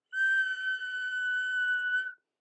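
One long, clear steam engine whistle blast holds a steady pitch for about two seconds, then cuts off into silence.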